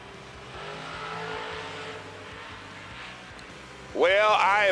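At a drag race, a Shoebox Chevrolet and a Mustang rumble low at the line, then one engine revs and screams sharply upward near the end, while an announcer's voice carries through the clip.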